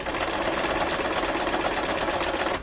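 A sewing machine runs steadily while stitching the body of a sofa slipcover, a continuous close whirring drone that holds at even loudness throughout with no talk.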